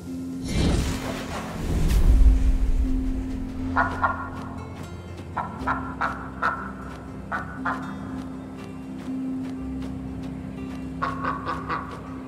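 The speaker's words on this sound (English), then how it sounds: "Where's that duck? Ducky, ducky, where are you? Quack!" Duck quacks in the video game Lost Ember, a series of short nasal calls in scattered bursts over a steady ambient game hum with a low drone, moderately loud and fairly near.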